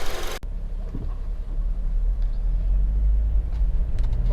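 A 2006 Honda CR-V 2.0 i-VTEC Executive station wagon on the road, with a steady low engine and road rumble building after a brief click and continuing evenly, close and without talk.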